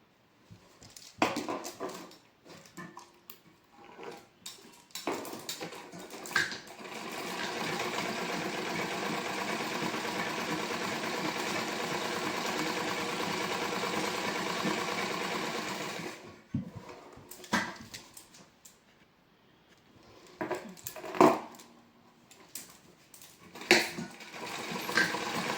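A sewing machine stitches along a folded fabric strip for a blouse, running in a steady continuous whir for several seconds between shorter stop-start bursts and handling clicks.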